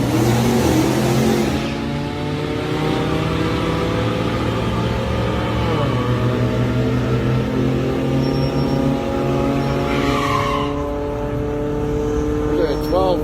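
A turbocharged 3.1 V6 Chevrolet Cavalier Z24 makes a drag strip run on slicks, its engine droning loudly and rising through the gears, with a shift around the middle and people talking over the noise.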